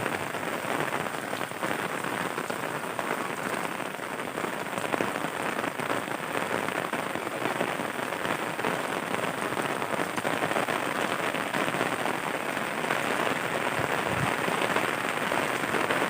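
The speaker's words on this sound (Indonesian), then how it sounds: "Hujan. Hujan ya." Steady rain falls continuously on a rural village, a dense hiss of drops pattering on surfaces with no pauses, fairly close and even in volume.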